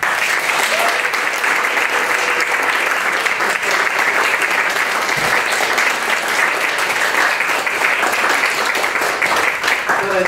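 Sustained audience applause fills the hall welcoming pianist Renée Guerrero at a 2019 piano recital, a dense, steady wash of many hands clapping at even loudness throughout with no voices on top.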